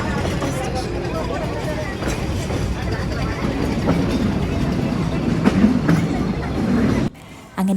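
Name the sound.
Ooty toy train starting to move again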